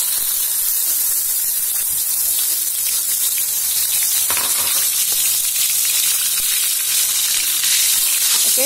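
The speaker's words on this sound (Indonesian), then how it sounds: "Oke, bumbunya di sini kita tumis hingga tanak ya." Spice paste for pepes ikan patin sizzles and fries steadily in hot oil, a loud, continuous close-up hiss with faint stirring scrapes throughout.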